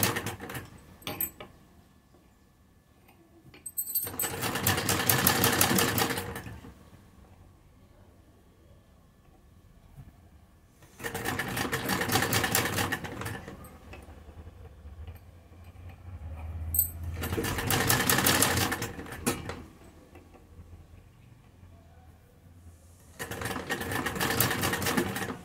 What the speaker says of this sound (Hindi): दूसरी तरफ भी हम सेम इसी तरह से सिलाई लगा लेंगे जो हमने पहले प्लेट डाली थी।